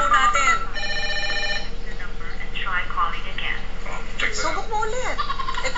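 A telephone rings during a call to the 117 hotline, its tones mixed with lively voices and chuckling that carry on over and around the ringing.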